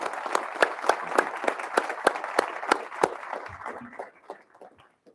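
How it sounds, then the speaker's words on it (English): Applause at a commission meeting from a modest audience, distinct individual claps in a quick steady rhythm that thin out and fade to silence after about four seconds. "Could you give them a round of applause?"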